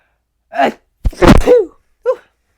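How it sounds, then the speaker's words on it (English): A sharp intake of breath, then a loud explosive sneeze, followed by a brief sniff or small exhale at the end; nothing else around it. "I'm about to sneeze in 3 seconds."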